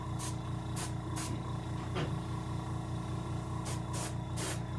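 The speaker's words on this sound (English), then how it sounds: "The angle spraying is a good way to bring a little life to the fish and get the darkness you want to achieve." Airbrush spraying paint at an angle onto a green sunfish mount for taxidermy, heard as several short hissing bursts of spray over a steady compressor hum, close and alone without talk.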